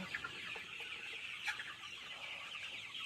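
40-day-old chickens cluck softly and continuously, a faint flock murmuring at a distance with no talking.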